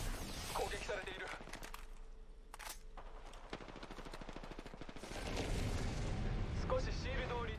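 Gunfire in the Apex Legends video game, loud rapid bursts of shots and impacts layered under game audio, heaviest toward the end, with voices speaking over the action.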